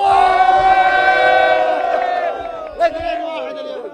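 A large crowd of Moroccan football fans at Khalifa Stadium roars in a sustained, loud chant with many voices blending into a dense wall of sound, tapering slightly near the end.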